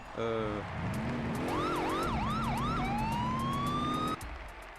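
A synthetic police siren from the video game TrackMania United Forever wails and yelps, sweeping up and down repeatedly before a steady rising tone, loud and close, cutting off abruptly.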